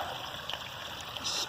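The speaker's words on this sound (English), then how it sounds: "So you got water coming down there" Rainwater runs down a washout during flooding, a faint, steady trickling rush with no talk.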